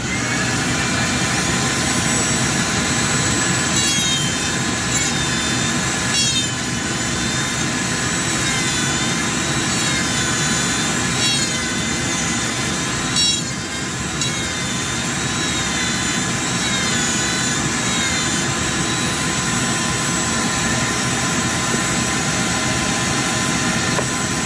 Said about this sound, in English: let's use Tata's aggressive wood aluminum cutting burr